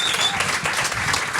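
A gathered crowd applauds steadily, a dense, close wash of clapping hands with no break, while a performer waits on stage.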